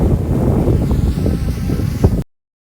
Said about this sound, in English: Not liking the wind.